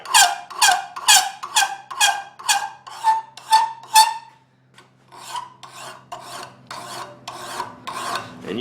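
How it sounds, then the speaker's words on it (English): A hand file rasps across a steel knife blank from a flint and steel knife-making kit. About eight quick, evenly spaced strokes are followed by a short pause and then slower, softer strokes, all close and clear. "I'm going to file it from a couple of directions."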